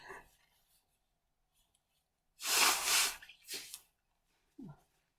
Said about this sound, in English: That was a sneeze that didn't grow into anything.